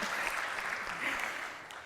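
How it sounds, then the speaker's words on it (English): An audience at a community college forum applauds, a steady wash of clapping heard from a middle distance that carries on unbroken and fades slightly toward the end. "so let's give a clap for all of them."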